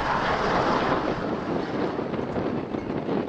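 Strong wind squalls roar across boat moorings on the river Orwell, a loud, steady broadband rush buffeting the microphone with no pauses and no voices.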